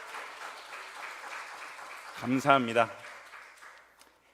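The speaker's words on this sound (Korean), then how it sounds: "우리 보아스소 위해서 한번 박수 한번 해드리도록 하겠습니다" A church congregation at a Wednesday worship service at Ilsin Methodist Church applauds with steady, moderate clapping for a couple of seconds before a voice speaks briefly over its fading end.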